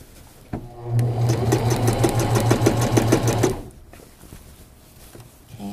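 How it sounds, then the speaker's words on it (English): A sewing machine stitches the crotch seam of a garment, running as a fast, steady mechanical whir for a few seconds before stopping. Light handling sounds follow. "the technique that I always use is just to move the fabric with my hands as I sew"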